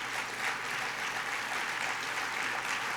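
Applause from the crowd at a 1996 Democratic Leadership Council luncheon, a steady even wash of many hands clapping, heard somewhat distant and sustained throughout.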